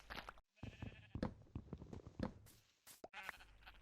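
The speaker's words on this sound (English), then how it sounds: "Kill the sheep" Sheep in the Minecraft Bedrock game on PS4 bleating in several short bursts, separated by brief silent gaps, close and clear.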